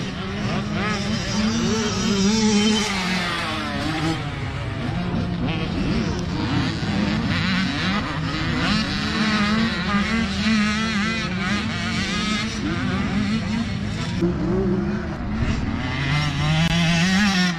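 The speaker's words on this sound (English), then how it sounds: "He's passing a lot of big bikes here." Big motorcycles racing past on a track, a continuous loud roar of multiple engines revving and droning together, rising and falling as bikes pass close by.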